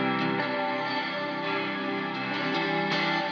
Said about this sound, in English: Something that's really important when you're processing guitars is being in control of your reverb.